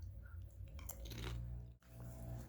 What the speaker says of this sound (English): I like the texture of that. I like the crunch of that.